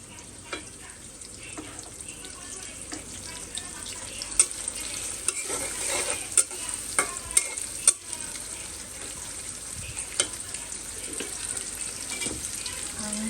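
Onions and chilies frying in a pan make a continuous crackling sizzle, with scattered stirring clinks and scrapes and a faint wash of running water in the background.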